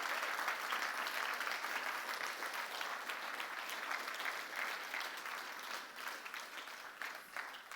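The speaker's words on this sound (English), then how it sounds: "Give them a round of applause." An audience applauding veterans at a talk, a steady wash of many hands clapping at moderate distance that holds for several seconds and slowly thins toward the end.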